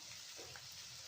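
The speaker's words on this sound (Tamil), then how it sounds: "தேங்காய் எண்ணெய் போட்டதுனால கொஞ்சம் லைட்டாக பொங்குறது." Steady, soft bubbling sizzle of nendran banana slices frying in coconut oil, a faint, even hiss with no voices.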